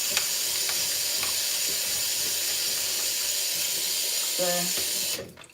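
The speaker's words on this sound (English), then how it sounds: "So now I'm going to put cold water" Cold tap water runs steadily into a bowl holding peeled plantain for Nigerian plantain porridge, a continuous close splashing hiss that stops abruptly near the end.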